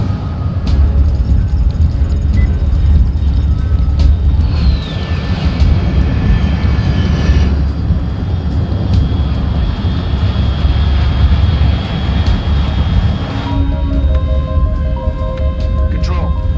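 A steady, loud aircraft engine drone rumbles overhead throughout a Metal Gear Solid Delta game scene, a constant low roar with a faint whine sliding through partway and radio-like voice talk layered over it.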